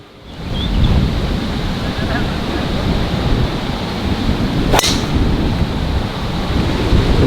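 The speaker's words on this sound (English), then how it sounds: "A lot of wind up there today." Strong wind on a golf course buffets the microphone as a loud, continuous roaring rumble throughout, with one brief sharp tick partway through and no clear talk.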